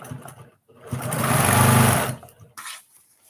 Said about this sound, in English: So all I'm doing is sewing across that top.